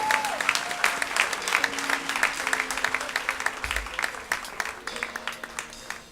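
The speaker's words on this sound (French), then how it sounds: "On peut les acclamer." A church congregation applauds the worship team with sustained, dense clapping that swells and lingers for several seconds, while a voice speaks faintly underneath.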